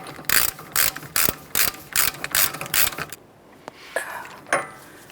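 A hand ratchet tightens the axle nut on a Toyota Sienna during a suspension knuckle replacement, giving quick bursts of loud clicking in a rhythmic series that slows to a few last strokes.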